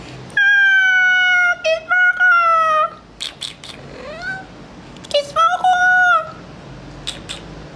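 A man imitating cat meows, producing several long, close, loud mewing calls in two bursts separated by a short pause, with bits of speech between them.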